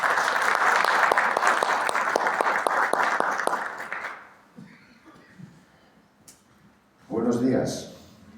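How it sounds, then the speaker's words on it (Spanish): Audience applause for Doctor Rubén's presentation at a lecture hall event, a strong burst of clapping that fades after about four seconds, then quiet room noise before a voice begins speaking. "Yo pediría también un aplauso para el doctor Rubén por la magnífica presentación que ha hecho."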